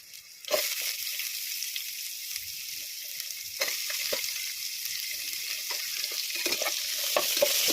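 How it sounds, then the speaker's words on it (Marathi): Finely chopped onion with garlic, ginger and chilli frying in a pan for biryani, a steady hiss of sizzling oil that jumps louder as the onion goes in, with intermittent stirring scrapes throughout. "लसूण आणि छान असं फ्राय झाल्यानंतर आपण आता यामध्ये कांदा टाकून घेणार आहोत बारीक कापलेला."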